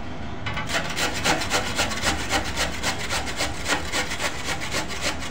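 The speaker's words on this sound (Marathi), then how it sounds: "आता आपण ते किसून घेणार आहोत।" Potatoes are grated on a hand grater, giving a rhythmic series of close, scraping strokes at a steady pace, about three per second, with no talking.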